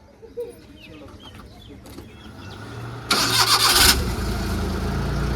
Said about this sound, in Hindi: गाड़ी जो है वो स्टार्ट हो चुकी है